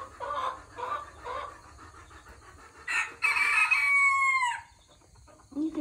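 A rooster crows in the background, a few clucks first, then one clear drawn-out cock-a-doodle-doo at moderate distance, with no voices.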